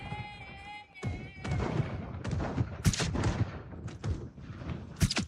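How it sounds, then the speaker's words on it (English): Gunfire in the video game Project Zomboid: a rapid run of loud, sharp shots and booming thuds, several coming close together, with a faint tonal hum at the start. "Gunshots, baby. Gunshots."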